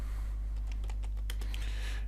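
Quick, light keystrokes on a computer keyboard as a php artisan command is entered, several irregular taps over a low steady electrical hum.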